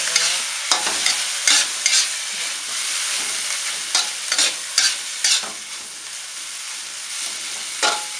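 Shredded boiled bamboo shoots stir-fried with egg crackle loudly in a hot pan, with brisk repeated scrapes of a spatula tossing the mixture over a constant sizzle.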